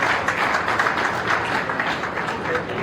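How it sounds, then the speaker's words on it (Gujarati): Audience applause for a speaker at a religious gathering, a sustained wash of many hands clapping through the hall, fairly steady with slight swells. "જોરદાર તાળી થઈ જાય."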